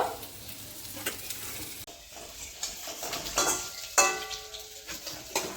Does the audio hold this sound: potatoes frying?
yes